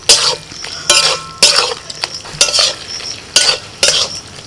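Bottle gourd cooking with salt gets ground poppy seed paste stirred in, giving loud, close scraping strokes in a rhythmic series of about seven bursts, with occasional light clinks of the pot.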